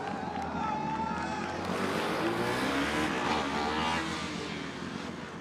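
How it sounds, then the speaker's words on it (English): Formula Student race car, Oxford Brookes number 2, running on circuit at Formula Student UK 2019; a steady, continuous engine drone with shifting pitch sweeps holds at moderate distance throughout, tapering slightly at the end. "we've got a new car out on circuit now, and it's the Oxford Brookes number 2"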